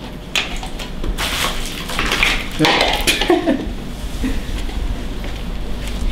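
Dishes and plastic food containers being washed at a kitchen sink, with running water, clattering and clinking of items knocking together, louder bursts in the middle, and a voice talking over it.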